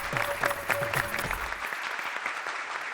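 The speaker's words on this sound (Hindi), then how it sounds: "जरा जोरदार तालियां बजाइए।" An audience breaks into applause at a Republic Day celebration, hearty clapping that fades over a few seconds while a voice speaks briefly near the start.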